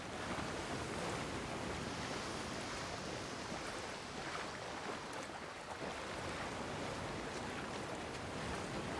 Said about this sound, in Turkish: Dalgalara bak, ne kadar güzel ha.